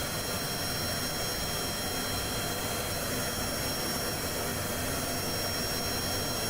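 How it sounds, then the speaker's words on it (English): Aircraft engines roaring steadily during a slow takeoff in the Kerbal Space Program video game, a continuous loud jet-like drone with no voices. "It's not exactly the quick takeoff I would hope for."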